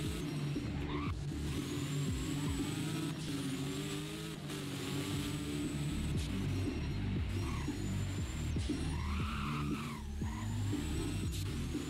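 A McLaren Fenyr supersport car revs and races in the game Driving Empire, a loud continuous engine drone with rising and falling pitch and tire squeals throughout.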